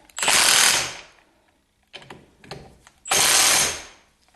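An impact wrench runs down brake caliper bolts on a 1976 Corvette restomod in three bursts: a long rattling hammer, a short broken stutter, then another long burst, close and loud in a quiet garage.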